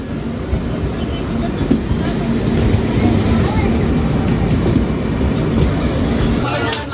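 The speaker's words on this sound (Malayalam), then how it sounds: "കൊങ്കൺ റെയിൽവേയുടെ വണ്ടിയാണ്." Konkan Railway Bandra Terminus Express train running, a steady loud rumble of wheels and carriage noise throughout with faint rhythmic clatter, voices talking over it.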